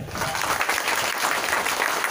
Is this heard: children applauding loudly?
yes